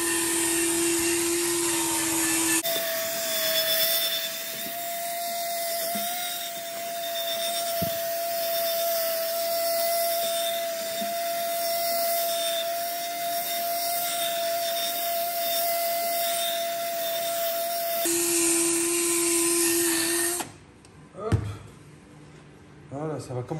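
Polishing machine with a blue coarse-grit disc working the paint of a Twingo in a garage, a steady loud whine with a fixed pitch running almost continuously. It stops briefly near the end, with a few knocks.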